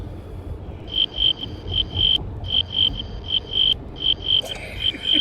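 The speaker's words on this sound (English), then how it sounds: "Crickets." Cricket sound effect: a close, clear chirping in regular rhythmic bursts, repeated steadily over a low rumbling background.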